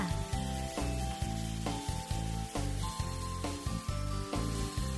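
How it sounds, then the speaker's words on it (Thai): Ingredients stir-fry in a pan with dark soy sauce, pepper and salt, a steady sizzle running beneath prominent background music with sustained melodic notes. "ผัดส่วนผสมให้เข้ากันเสร็จแล้วใส่น้ำเปล่าลงไป"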